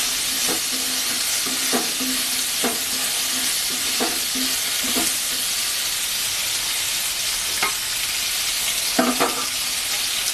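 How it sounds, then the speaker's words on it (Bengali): Yardlong beans with turmeric sizzle steadily in a hot pan, a constant bright hiss broken by several sharp scrapes and clacks as they are stirred. "হলুদ দিলাম, বরবটিটাও ভেজে নেব"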